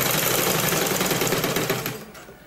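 A sewing machine stitches the side slit of a kameez with a loud, steady, rapid whir that runs continuously and fades out at the very end.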